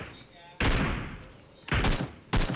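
Sniper rifle fire in a battle royale video game: three sharp, loud shots, each with a short echoing decay.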